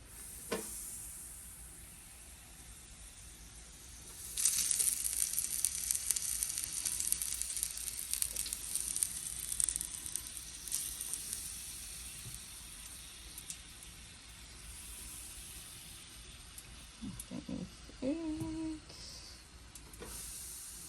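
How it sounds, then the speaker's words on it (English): Buffalo chicken pieces sizzling in hot deep fryer grease, a steady hiss that jumps louder as they go in and keeps bubbling, with a few faint clinks near the end. "now our grease is ready to go in a deep fryer. So we're gonna place these."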